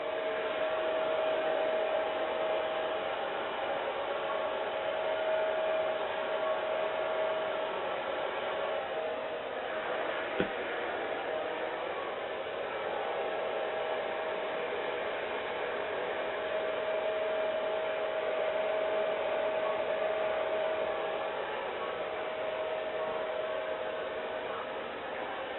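A hair dryer blows steadily at close range while styling hair upward at the back, a continuous airy roar with a faint steady whine running through it for the whole stretch, alone without talk.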